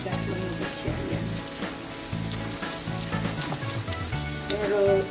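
Oil frying in a pan while cooking ginisang sitaw, a dense continuous crackling sizzle with a low hum underneath, steady and close, no talking.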